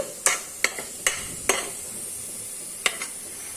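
Chili powder masala being stirred in oil in a pan for a mutton curry: a handful of sharp spoon scrapes and taps spaced through the clip over a faint, low sizzle, close and fairly quiet, with no talking.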